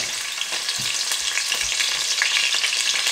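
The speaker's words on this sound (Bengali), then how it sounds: "এই যে আমি অনিয়ন দিয়ে দিচ্ছি" Chopped onions crackle and sizzle in hot oil in a pan for fish curry, a dense continuous hiss with scattered pops and the occasional scrape of stirring, close and steady.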